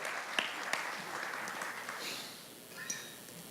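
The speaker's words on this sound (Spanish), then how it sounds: "I want you to sit down and give the Lord a strong round of applause." Church congregation applauding the Lord during a service, a faint, distant wash of clapping with a few sharper claps standing out, thinning toward the end.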